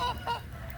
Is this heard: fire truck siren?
no